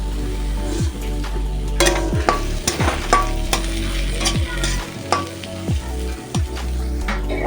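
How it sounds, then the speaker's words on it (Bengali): A spiced potato filling for aloo paratha, with amchur powder, chilli flakes and coriander leaves, is mixed in a pan: repeated close spatula scrapes and knocks over a steady sizzle, no voices. "এই মশলাটা এবার সব মিক্স করে নেব।"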